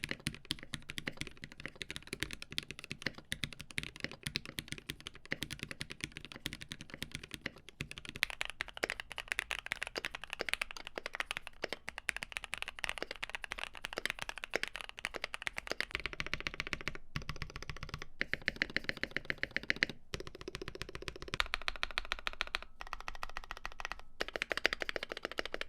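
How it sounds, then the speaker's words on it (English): Steady typing on a GMMK Pro mechanical keyboard fitted with tuned Durock V2 stabilizers and Stupid Fish case foam, a dense run of muted, tight keystrokes with occasional brief pauses, close and clear with no talk. "let's hear it versus a GMMK Pro with tuned Duroc V2 stabs, a case foam from Stupid Fish, same switches,"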